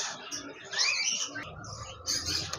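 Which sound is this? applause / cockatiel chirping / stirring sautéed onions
cockatiel chirping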